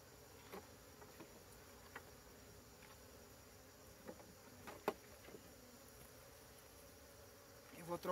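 A small captured swarm of honeybees hums softly inside a hive box, a steady, faint, continuous buzz with a few light knocks and taps scattered across it.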